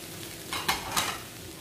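A brief, close scrape and sizzle as cabbage, capsicum, spring onion and egg noodles are stirred in a hot pan for spring roll filling, with two short stirring strokes over a steady frying hiss.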